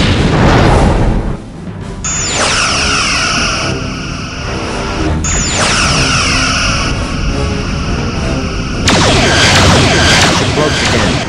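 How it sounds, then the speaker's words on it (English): A Romulan warbird's weapon fire hits the ship in repeated heavy booming blasts, with rising sweeping tones between the loud impacts and a rumbling background throughout. "They're firing on us."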